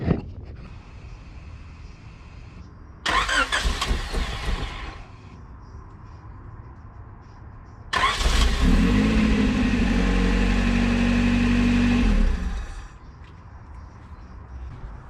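Junkyard Honda CRX being started: a brief cranking burst, then a pause, then the engine catches and runs at a rough, steady idle for about four seconds before dying away, heard close up with no talking.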